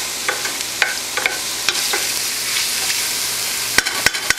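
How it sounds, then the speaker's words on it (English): Steady sizzling of mushrooms frying in butter with spices in a pan, with occasional sharp clicks and scrapes of a utensil stirring, close by. "especially with the frying mushrooms and in butter with the spices"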